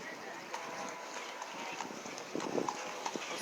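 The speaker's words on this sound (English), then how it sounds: "I'm feeling bad for these horses" Horses' hooves clip-clop steadily on pavement in a sunny park, a continuous near-to-mid-distance trot with a few louder hoof strikes, while people talk in the background.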